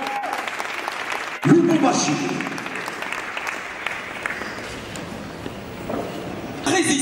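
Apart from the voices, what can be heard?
audience applause for a team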